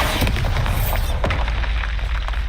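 A Bombarda blast from a Harry Potter-style spell-casting video game: a deep, rumbling explosion with a sharp burst near the start, then a sustained low roar and crackling debris filling the whole stretch, loud and close.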